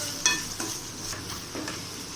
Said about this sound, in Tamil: கொஞ்சம் இஞ்சி பூண்டு பேஸ்ட் போட்டு இஞ்சி பூண்டோட பச்சை வாசனை போகிற வரையும் வணக்கிட வேண்டியது.